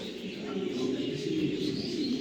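Soft, low cooing of several pigeons in a coop murmurs continuously nearby, with faint chirps and a little background noise.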